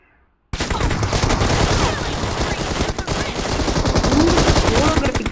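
Sustained automatic fire from a QBZ assault rifle in the mobile shooter BGMI, a dense rapid rattle of loud, close shots that begins abruptly and continues without pause for about five seconds.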